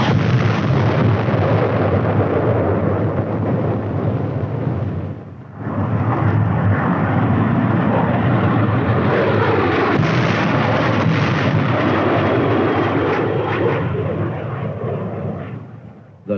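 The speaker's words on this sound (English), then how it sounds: "The deadly napalm is dropped in a veritable blanket of destruction over the enemy's position." Aircraft drop napalm on enemy positions, a loud continuous roar of engines and rumbling blasts that dips briefly before surging back, dense and heavy throughout.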